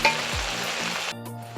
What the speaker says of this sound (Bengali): ডাঁটাটা ভাজা ভাজা হয়ে গেছে, এবার দিয়ে দেবো বেটে রাখা পোস্ত সর্ষেটাকে